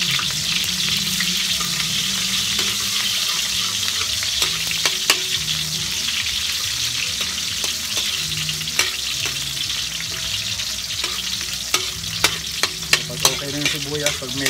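Onions fry in a hot pan with a loud, continuous sizzle, while a spatula stirs and scrapes against the pan in irregular bursts, and sharp clicks grow more frequent toward the end.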